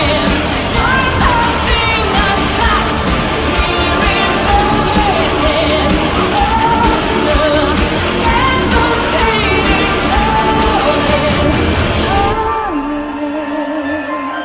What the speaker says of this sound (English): The energy, that crowd participation.